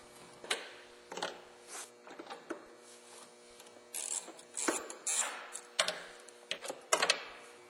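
A socket tool drives screws into a Ford heavy duty light, giving a series of short ratcheting clicks in irregular bursts, close and fairly quiet with no talking.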